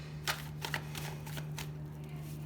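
Tarot cards are shuffled in a few quick, soft riffling bursts over a steady low electrical hum, close by and without talk.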